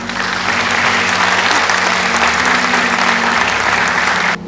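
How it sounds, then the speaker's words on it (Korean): Big audience applause at an institute's 25th anniversary ceremony, loud and sustained for over four seconds with a steady hum underneath, fading abruptly at the end. "다 함께 큰 박수로 25번째 생일을 축하해 주시면"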